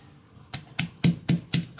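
A pestle pounds chili paste in a mortar with five sharp, evenly spaced thuds, close and clear with no talk.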